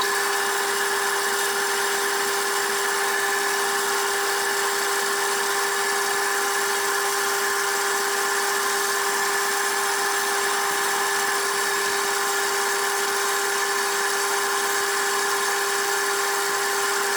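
A wood lathe spins a small wooden bud vase in a steady, unbroken high whine as kitchen roll wipes excess Yorkshire grit off the turning piece, continuous and close with no voices.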